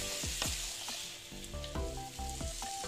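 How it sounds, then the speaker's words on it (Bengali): Jackfruit curry (echor kalia) sizzling in a pan as it is sautéed, a steady crackling fry broken by scraping stir strokes and spoon clinks against the pan, close and fairly quiet. "বন্ধুরা, আমি এইভাবে কষিয়ে নিচ্ছি।"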